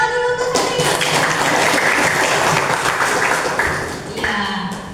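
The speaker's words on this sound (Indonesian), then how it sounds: "Iya, tepuk tangan dulu untuk Satrio." A seventh-grade class gives a student a burst of dense clapping lasting a few seconds, loud and close. Voices can be heard just before it starts and as it fades.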